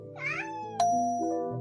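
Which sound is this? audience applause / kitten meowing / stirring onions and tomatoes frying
kitten meowing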